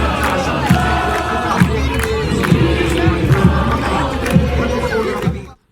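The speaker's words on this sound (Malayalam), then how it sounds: "എങ്കിലും ആസ്പയറിൽ ഉയർന്നു തന്നെ കേട്ടു അവരുടെ ആർപ്പുവിളികൾ" Moroccan football fans roar and chant continuously at Aspire stadium in Doha during an under-17 World Cup semi-final, a dense, loud crowd din with rhythmic drum-like thumps and surging shouts throughout.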